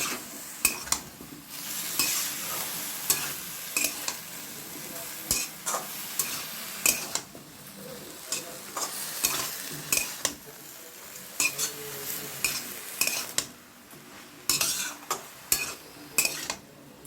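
Drumstick flower chorchori with chillies sizzles in a pan while a spatula stirs it, producing a steady frying hiss broken by regular sharp scrapes and clanks of metal on the pan, close and continuous.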